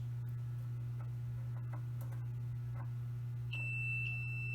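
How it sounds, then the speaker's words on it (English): Multimeter in continuity mode beeping as its leads touch the screws of a water heater element: a steady high electronic tone starting near the end, over a constant low hum. "you can touch the leads and you should hear a beeping noise"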